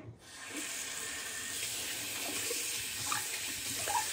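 Tap water runs steadily into a bathroom sink during a wet shave, a close, continuous hiss of flowing water.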